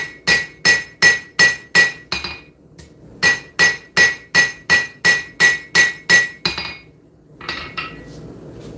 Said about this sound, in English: We want to planish it at a little bit lower heat.